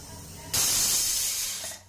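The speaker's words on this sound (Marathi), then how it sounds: "ते बघा, झाली ते कुकरची शिटी" A pressure cooker holding rice lets out one loud, sustained steam whistle lasting over a second, cutting in abruptly and then tapering off.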